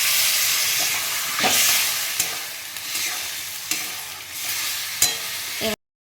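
Water poured into a hot pan of green potato curry paste (aloo dum) bursts into a loud, close, continuous hiss and sizzle with a few sharp spatters and stirring scrapes, then cuts off abruptly.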